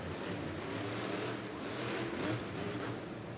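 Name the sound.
Gravedigger monster truck engine revving during a sky wheelie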